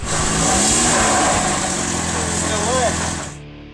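A car engine revs loudly and steadily as the vehicle drives away after repairs, with a high whine over the rumble for about three seconds before it cuts off abruptly.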